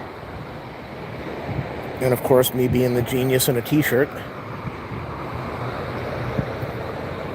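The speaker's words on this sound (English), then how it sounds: "It's windy." Steady wind rushes and buffets the microphone outdoors at Los Angeles International Airport, with surf-like roar underneath, while someone speaks briefly partway through.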